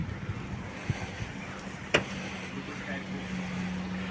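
A 3.2-litre methane-gas car engine idles with a steady low hum, broken by a single sharp clack near the middle, with faint murmuring in the background.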